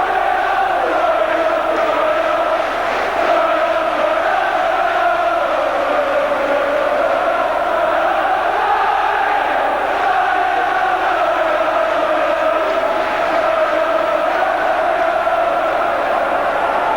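A football crowd at the 1989 Crystal Palace v Blackburn Division 2 play-off final second leg keeps up a steady, distant roar of massed voices, rising and falling slightly without pause.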